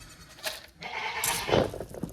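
A goat bleats at feeding time, a few nasal, wavering calls close by with faint rustling around them.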